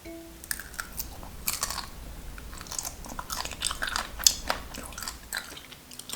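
Soy-marinated raw shrimp tail is bitten and chewed close up, with repeated wet crunching bites in an uneven rhythm and no talk.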